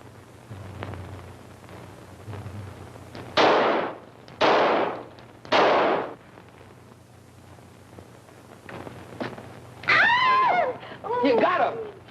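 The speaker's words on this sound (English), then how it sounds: "All right, Herbie, show him how we shoot." Gunshots from a 1943 film: three loud sharp reports in fairly quick succession, each decaying fast, followed by voices talking excitedly.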